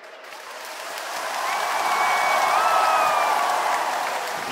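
A large crowd at a rock concert in Erfurt claps hesitantly at first, the dense applause gradually swelling louder, with a thin whistle rising above it midway.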